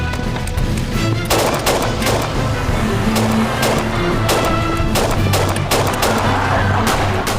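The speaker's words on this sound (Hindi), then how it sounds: "गोलियां चलाओ।" Loud bursts of gunfire in a TV drama scene crack repeatedly over a dense, chaotic background, shots coming in rapid irregular clusters throughout.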